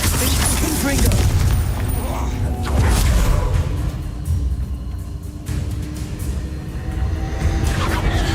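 Spell explosions from the Hogwarts Legacy video game boom and rumble loudly in repeated bursts with whooshing debris and mechanical clatter, continuous and dense throughout.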